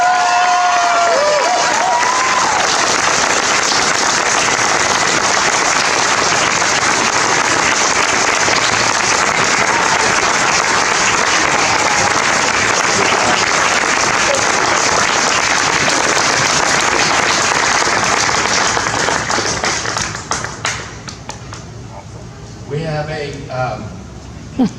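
Audience applause for the 2017 G. David Hurd Innovator in the Arts Award recipient at a Des Moines arts ceremony, loud and steady from a large indoor crowd with some cheering, sustained for about twenty seconds before thinning into scattered claps.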